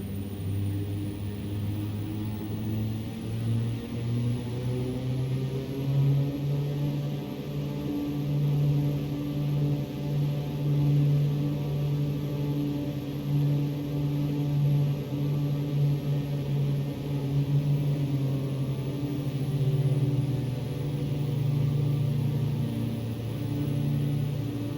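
A Piper Cheyenne II turboprop in X-Plane 11 holding a steady engine run-up, a continuous droning hum with a faint high whine that swells slightly and then settles, alone and even throughout.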